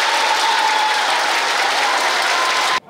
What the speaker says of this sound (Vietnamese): Xin quý vị hãy dành những tràng pháo tay thật lớn để cùng theo dõi.